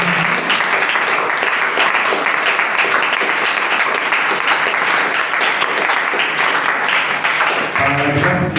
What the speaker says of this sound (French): Kinshasa, est-ce que tu peux acclamer?